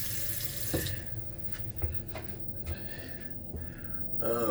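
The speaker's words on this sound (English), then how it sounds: "Excellent running water." Water runs steadily from the sink tap in a cruise ship cabin on the MSC Magnifica, a close, continuous rushing splash that holds throughout with no speech over it.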